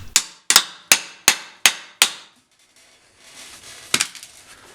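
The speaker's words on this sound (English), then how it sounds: "A 36mm socket and a hammer did just fine without damaging the boots." A hammer strikes a 36mm socket six times in a steady rhythm, driving a new rear suspension bushing into a BMW E46 trailing arm, each blow a sharp metallic clang, followed by a pause, faint shuffling and one final hit.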